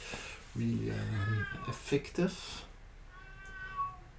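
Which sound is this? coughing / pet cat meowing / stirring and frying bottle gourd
pet cat meowing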